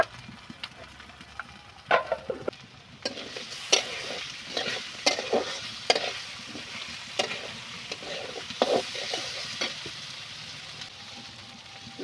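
Masoor lentils sizzling in hot oil in a heated pan, with repeated scraping stirs and clicks of a spatula over a continuous fry hiss, close and fairly loud, no speech.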